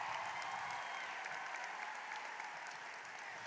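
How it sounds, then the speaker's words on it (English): A large graduation audience at a high school ceremony claps continuously, a dense, even wash of applause heard from a distance and holding steady throughout. "you should clap for that"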